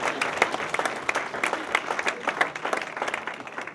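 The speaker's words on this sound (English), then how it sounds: "let's give a big round of applause" Audience applause fills a hall at a Hall of Fame awards evening at St. Elizabeth's, steady dense clapping from a crowd lasting several seconds with no talk over it.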